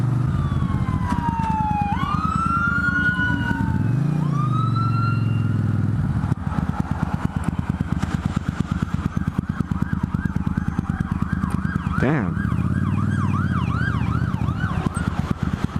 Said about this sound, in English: A fire truck, an ambulance, another fire truck, and a fire SUV. And a police car